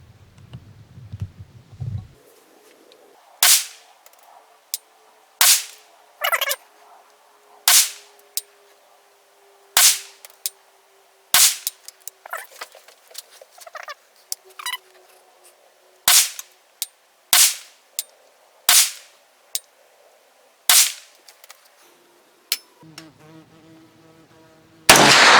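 A Jard J68 bullpup fires ARX 65-grain rounds, with over a dozen loud, sharp shots spaced irregularly, each followed by a brief ring. Quiet handling noises fill the gaps.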